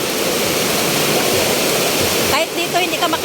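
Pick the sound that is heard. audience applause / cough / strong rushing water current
strong rushing water current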